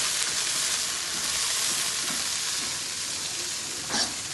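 Curry leaves frying in hot oil with ginger for a bitter gourd pickle give a steady, dense sizzle that stays close. A brief stir near the end makes a slightly louder crackle.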